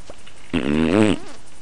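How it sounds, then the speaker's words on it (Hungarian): A cartoon fish lets out a single loud, buzzy, wavering fart lasting about half a second, standing alone against a quiet background. "A halacska tud fingani?"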